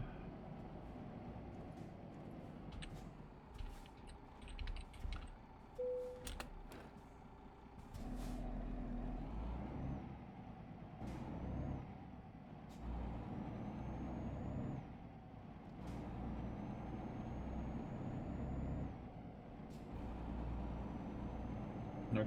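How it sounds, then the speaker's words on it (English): Trucks on a road in the TruckersMP multiplayer truck simulator, one overtaking another: a low, steady diesel rumble with hissing air-brake bursts and passing engine swells, fairly faint throughout. "I just witnessed one trucker overtake another"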